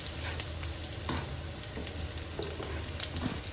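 Food sizzles and fries steadily in a pan before tomato goes in, a close, continuous crackling hiss with soft stirring scrapes and no talking.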